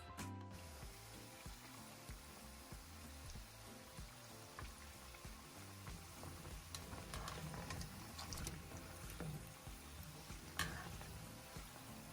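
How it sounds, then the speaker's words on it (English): Faint, continuous crackling and popping of fish rolls frying in oil on medium-low heat, with small irregular ticks throughout. "gently lower the fish roll into the oil and fry for about 7 minutes on medium low heat"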